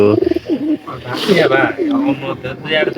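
Pigeons in a village loft, nesting to lay eggs, coo repeatedly close by with soft, throaty, rolling calls that overlap one another while a person talks over them.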